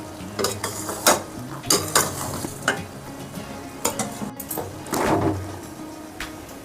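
Thick sugar syrup bubbles in a pan for laddoos while a spoon stirs it, giving scraping, clattering strokes that recur every second or so over a soft steady sizzle, close and fairly loud.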